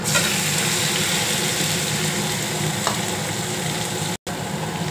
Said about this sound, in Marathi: आता मी त्यात टाकतोय हळदी, 1 टीस्पून हळदी टाकले आणि त्यात टाकतो कोबी